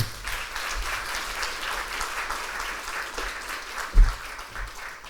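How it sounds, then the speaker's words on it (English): An audience at the closing session of a bus and coach industry summit applauds with steady, dense clapping that fills the room at moderate volume, one louder clap near the end, and no speech over it. "Would you please give a round of applause for Claire Mann?"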